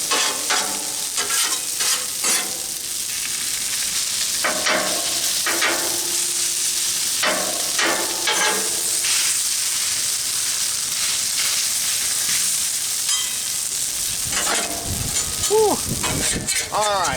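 Eggs frying on a Blackstone flat-top griddle, a steady close sizzle and hiss with scraping and stirring bursts from a spatula, running continuously throughout.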